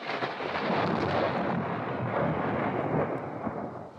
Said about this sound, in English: that tree cut in half clean as a whistle just where I was standing